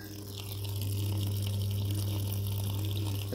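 Water pours steadily into a Samsung top-load fully automatic washing machine as it fills, a continuous close rushing flow over a constant low motor hum, with no talking.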